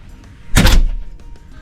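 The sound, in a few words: cruise cabin door peephole sliding cover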